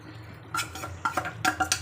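A spoon scrapes and clinks against a pan as ground masala is stirred into a Maharashtra-style chicken gravy. After a quiet start come several close, sharp metallic knocks.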